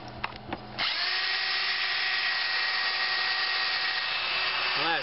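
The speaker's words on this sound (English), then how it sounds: "I drilled another small, little tiny hole." A power drill bores a small hole into a ceiling. A few short clicks come first, then a loud, continuous, even whine runs to the end.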